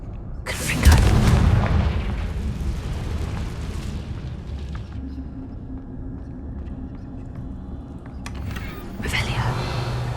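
A Confringo spell explodes in Hogwarts Legacy with a loud, sudden boom that fades into a rumbling tail, followed later by a softer second burst.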